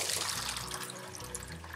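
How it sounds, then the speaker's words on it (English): Water pumped into a hydroponic ebb-and-flow flood table from a Danner Supreme Hydro kit, a steady close rushing and trickling flow running without pause under a faint low hum. "you'll allow your flood table to fill with water"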